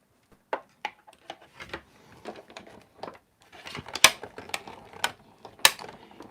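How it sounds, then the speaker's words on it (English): A stamp die-cutting machine runs with a series of sharp mechanical clicks and ratcheting clacks, irregularly spaced and growing busier toward the end, heard close with no talking. "we'll pop both of these right into the machine"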